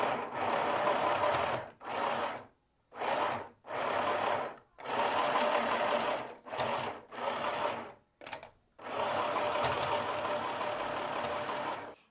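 A sewing machine re-stitches a strap seam on a tricoline cotton blouse, its motor running in repeated loud bursts with short pauses between runs of stitching.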